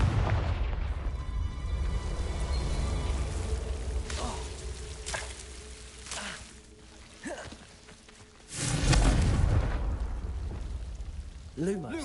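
A Confringo fire spell goes off in Hogwarts Legacy on PlayStation 5: several booming impacts and crackling bursts spread over a rumbling, rain-like game soundscape, with a big blast near the end.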